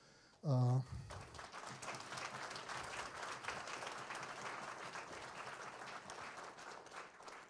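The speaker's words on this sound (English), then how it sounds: "they deserve a big round of applause" An audience at the Cincinnati Civic Orchestra holiday concert bursts into sustained applause for the concert volunteers, a dense wash of clapping that rises after a brief low tone and carries on steadily to the end.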